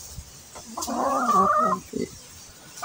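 A chicken in a backyard coop gives a close, throaty run of clucks lasting about a second, followed by a few softer clucks over quiet background.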